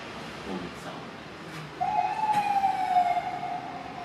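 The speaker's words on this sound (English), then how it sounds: "The moving object will produce a sound which the ear and the brain will decipher that something loud is approaching towards you, which is called Doppler effect." A siren passes, its wail swelling over a rumbling traffic background and then sliding down slightly in pitch as it moves away.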